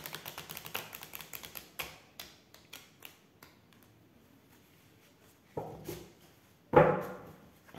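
Tarot cards cut and shuffled by hand, a rapid run of light papery flicks and taps followed by a few scattered slaps and a louder riffling burst near the end, close and fairly quiet.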